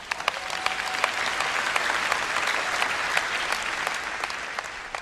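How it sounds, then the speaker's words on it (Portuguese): A church congregation applauds during a sermon, a dense sustained wash of clapping from a large crowd heard at moderate distance, steady throughout with occasional sharper claps. "Vamos, aplaudir o Rei da Glória."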